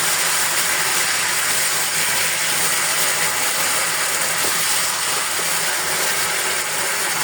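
Fish frying in a pan with sauce, barbecue style, giving a steady, dense sizzle and hiss that stays loud and unbroken from start to finish, with no voices.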